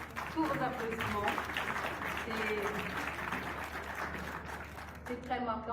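Audience applause at the launch of an international conference, moderate and steady clapping lasting several seconds with a voice speaking over it at the start and end.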